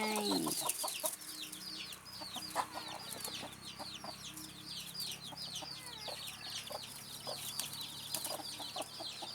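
A black hen clucking softly among her chicks in a coop, with a steady stream of high chick peeps over low clucks, close and continuous, no talk.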